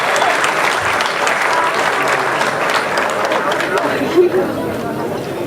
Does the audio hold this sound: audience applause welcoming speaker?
yes